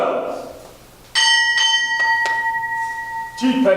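A ship's bell rings twice in a quick pair at a Navy retirement ceremony, clear and ringing with a long fading tone, after a spoken call and before another voice.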